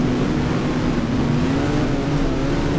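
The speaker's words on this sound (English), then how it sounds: "I change gear just when I'm down with the revs." A race car engine in the F1 Challenge video game, during a 1978 season race, drones loudly and steadily as the revs slowly climb, with a smooth pitch rise and no voices.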